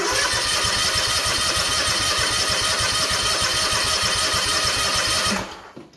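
A Kawasaki FR730V engine fitted in a Cub Cadet SX60 mower fires up and runs at a steady, rapid chugging idle for several seconds, loud and close, then cuts off abruptly near the end.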